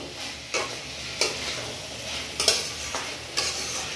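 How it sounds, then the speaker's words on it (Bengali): Kidney beans are stirred through spiced oil for rajma, with a steady close sizzle broken by several sharp scraping strokes of a spoon against the pan, spaced about every second. "এইবারে আমি এই যে রাজমাটা আছে এটা এর মধ্যে দিয়ে বেশ ভালো করে"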